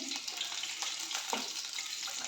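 Pakora-style snacks frying in a pan of oil give a steady, close hiss and crackle with small pops throughout, and no voices are heard.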